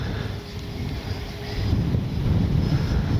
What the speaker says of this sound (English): And it's suddenly gotten very windy.